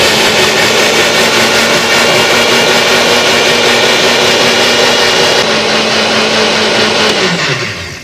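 Electric grinder grinding mustard seeds, a loud steady whirring hum that runs continuously and then winds down at the end, with no talking.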